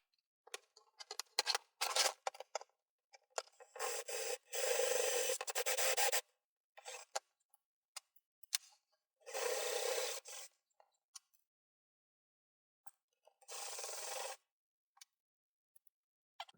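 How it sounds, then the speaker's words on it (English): Bursts of harsh, rasping drilling into a plastic 3D printer part, several separate runs of a few seconds each with short pauses and small clicks between them. "now I'm gonna drill it from the other side"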